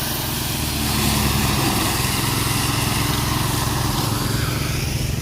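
A motor engine runs nearby with a loud, steady drone and a rapid buzzing pulse. It holds constant with no pauses and no talk over it.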